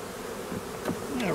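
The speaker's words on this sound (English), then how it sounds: "you can see these bees, they're all over me" Honey bees buzz close around a beekeeper at an open hive, a faint steady insect hum with a few louder passes near the microphone.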